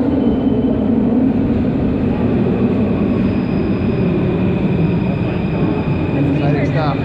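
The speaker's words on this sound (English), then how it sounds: "are going on the metro." A Paris metro train runs underground with a loud, continuous rumble and rail roar that holds steady throughout, close and enveloping, with a few faint squeals near the end.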